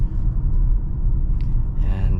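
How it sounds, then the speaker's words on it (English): A 2022 Nissan Altima S base-trim engine runs while driving, a low steady rumble with road noise that fills the cabin. A brief higher tone rises near the end. "Yeah, this engine is actually very, very good."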